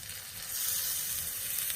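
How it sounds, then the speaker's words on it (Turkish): Water poured into a hot pot of meat for kelle paça, a steady loud sizzling hiss that swells after the first moment and holds at full strength. "Tenceremdeki sudan alıyorum. Bunun içerisine ekliyorum."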